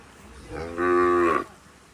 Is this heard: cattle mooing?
yes